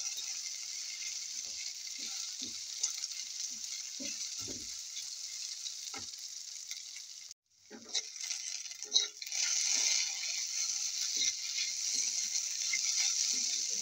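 A cauliflower egg omelette cooks in a pan with a soft steady sizzle and scattered spatula taps while being mixed; the frying briefly drops out, then returns louder.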